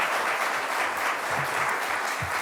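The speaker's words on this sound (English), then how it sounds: "Let's give a round of applause to everyone in this room who cares enough about our kids" Audience in a room at a governor's event on youth mental health breaks into sustained, even applause, a dense crackle of many hands with a few low thumps beneath.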